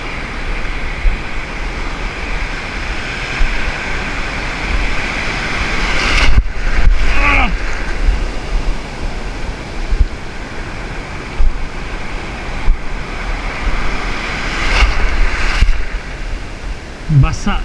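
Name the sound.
ocean waves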